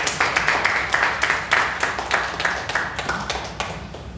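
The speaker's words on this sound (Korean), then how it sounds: "우리 박수로 감사와 영광을" A church congregation claps together during a Sunday service in a steady, fairly quick rhythm, the beats sharp and moderately loud, slowly thinning and softening toward the end.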